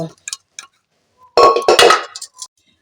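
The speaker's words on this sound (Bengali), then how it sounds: "প্রেসারের ঢাকাটাকে এবার খুলে নেব" A metal pressure cooker lid being opened after two whistles on the cooker, with a loud, ringing metallic clank lasting under a second, preceded by a few small scattered clicks.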